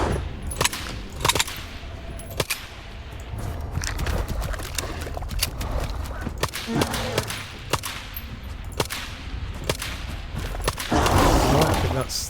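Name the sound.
Skiff's 9mm handgun shooting in the S.T.A.L.K.E.R. 2 video game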